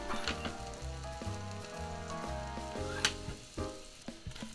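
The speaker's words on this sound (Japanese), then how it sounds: "フライパンを火にかけて、弱火でニンニクにバターを入れて、ニンニクにじんわり火を通していきます" Garlic cooking gently in butter in a frying pan over low heat, a quiet continuous sizzle with fine crackle running beneath soft background music.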